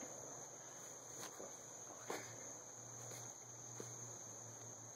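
A cicada buzzes steadily and faintly outdoors in a continuous high-pitched drone, with no voices present.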